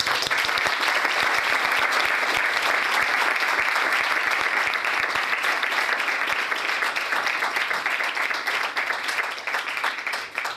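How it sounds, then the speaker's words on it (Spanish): A seminar audience gives sustained applause for three speakers at a Down syndrome event, dense crowd clapping holding steady before tapering slightly at the end. "Entonces le pido un aplauso para las tres."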